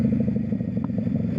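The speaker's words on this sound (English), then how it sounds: "you can hear the bike, so I'm gonna downshift it" Motorcycle engine with a quick shifter and a tune that makes it gurgle and pop, being downshifted; a steady, close, loud low engine rumble with a brief pop and no talking.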